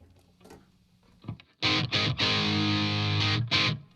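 A few quiet plucked notes give way to loud, sustained distorted electric guitar chords, cut off briefly twice before ringing out again.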